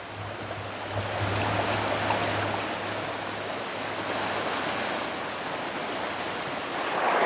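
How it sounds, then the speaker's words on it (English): Sutter Creek in flood after heavy rains, high water rushing steadily with a dense, loud broadband roar that holds constant throughout and swells slightly near the end, with no voices. "And quite a fluvial flow down there."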